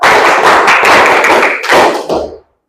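A room full of people claps in a counted rhythm exercise: a long stretch of rapid, overlapping hand claps followed by two shorter bursts, loud and close, with no voices.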